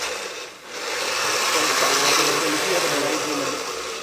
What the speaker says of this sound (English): what I'm going to do is I'm going to turn the blender